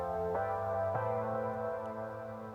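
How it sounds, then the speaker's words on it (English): Warm, plucky, warbly analog supersaw synth with extra processing, a few sustained chord stabs ringing out softly and alone. "this basic kind of analog supersaw sound going on with some extra kind of processing"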